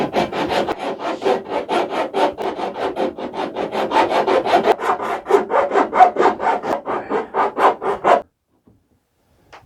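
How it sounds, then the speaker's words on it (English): A flat rasp files wooden rebates on a dagger board trunk for a small wooden dinghy, making about twenty rhythmic back-and-forth rasping strokes, close and clear, before stopping. "just use a flat rasp to see if we can move these both on these rebates back a little bit on each side"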